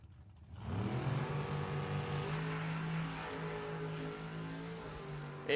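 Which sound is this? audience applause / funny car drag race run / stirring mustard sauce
funny car drag race run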